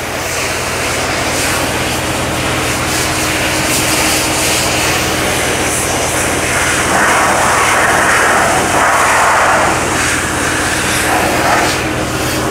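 A trailer-mounted 70HP cold water jetter with a number 9 nozzle spraying at 4,000 PSI and about 10 gallons a minute, giving a loud, steady hiss over a continuous engine roar from start to finish.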